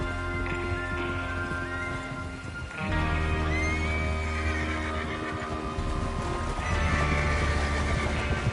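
Horses in a video game whinny several times over a bed of clopping hooves and shuffling movement, fairly close, with no talking.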